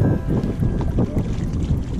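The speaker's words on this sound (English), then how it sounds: "Wind's blowing a little bit." Wind gusting across open water while a 2019 Hobie Outback kayak is paddled, a steady low rumble of microphone buffeting with faint water movement throughout, no talking.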